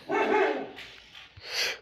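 A dog barks in the Byte City NFT video game: one loud bark followed by a softer yip and another short bark, close and clear with no speech over it.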